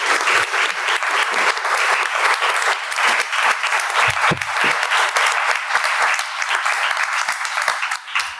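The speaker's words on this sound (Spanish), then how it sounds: "Un aplauso." An audience at a talk on nationalism and history claps in loud, sustained applause from many hands, continuing steadily to the end.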